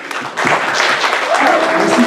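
Applause from an audience at an evening event against homophobia, starting after a brief quiet moment and then holding steady as a dense, continuous wash of clapping with some voices mixed in.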